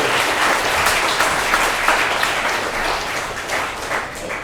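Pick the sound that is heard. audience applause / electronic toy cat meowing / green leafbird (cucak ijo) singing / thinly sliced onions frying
audience applause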